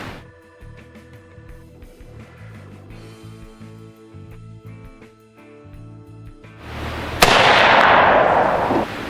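AR-15 rifle fired through an HPF Irish Curse single-chamber muzzle brake, heard as one loud sharp blast late in the clip with a ringing decay, after quieter outdoor range background.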